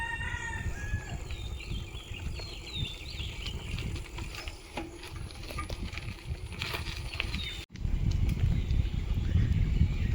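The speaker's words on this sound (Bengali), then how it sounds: "নাম না জানা" Unidentified birds call in a rural Bangladeshi village in early autumn: several thin whistling and chirping calls scattered over a steady, fairly loud outdoor background hum, heard at a moderate distance with no talk.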